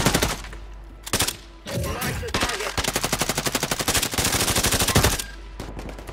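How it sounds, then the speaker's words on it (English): Rapid machine gun bursts in the Call of Duty video game, loud repeated rattling volleys with brief pauses between, in a firefight around a house and a church. "They're shooting at guys in the house over here in the church"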